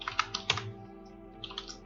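Light typing on a computer keyboard, a short run of quick, close keystrokes in two small clusters with a brief pause between, quiet and heard alone.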